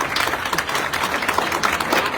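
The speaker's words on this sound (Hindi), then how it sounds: "जोरदार तालियों के साथ देखो" An audience at a motivational gathering applauding loudly, a dense, continuous burst of many hands clapping, close and full for the whole stretch.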